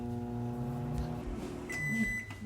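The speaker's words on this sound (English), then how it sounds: "we're gonna put this in the microwave for 30 seconds" A microwave oven hums steadily, ending with a short electronic beep near the end; the sound is close and moderately loud with no talking.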